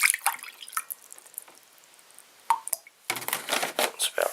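Water trickles and splashes into a cup for a fruit fly culture, with scattered drips and plops and then a louder pour toward the end.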